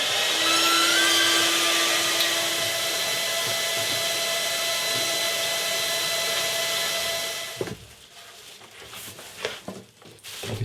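An HPLV dust extractor runs at a loud, steady whine while its bag fills with sawdust, then cuts off abruptly partway through, leaving quiet handling clatter.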